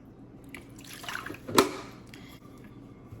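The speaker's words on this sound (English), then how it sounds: "Okay, so I'm going to add my water." A brief, quiet pour of water into a mixing bowl of pumpkin bread mix, rising to a single sharp splash before fading out.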